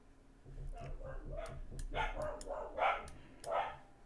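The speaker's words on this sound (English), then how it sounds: "My apologies if barking is damaging your ears." A dog barks repeatedly at close range in a run of sharp, loud barks that grow stronger toward the end, mixed with occasional whimpers and soft clicks.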